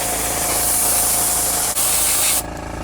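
A loud continuous hiss of an aerosol spray can painting model railroad track ties, briefly interrupted once, then stopping abruptly, leaving quiet background.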